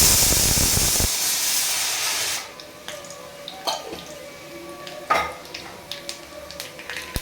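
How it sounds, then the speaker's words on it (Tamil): Oil hitting a hot pan with mustard seeds during preparation of a goat intestine curry, opening with a loud burst of hissing sizzle that fades after about two seconds, leaving sparse pops and crackles. "கடுகு போடுவோம். எண்ணெய் கொஞ்சமாக ஊற்றினா போதும்."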